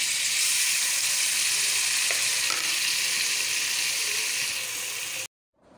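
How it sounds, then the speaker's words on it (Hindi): Loud, steady sizzle of frying in a pan as peas go into half-cooked chicken for chicken matar pulao, with a brief clink and stirring, then cutting to silence near the end. "अब इसमें डाल देंगे मटर।"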